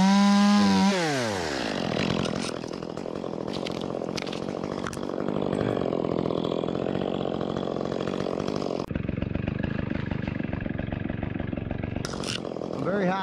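A chainsaw revs and then runs steadily during old-school rigging of tree tops. The engine drones loud and close throughout, its pitch shifting as the load changes, and someone talks over it.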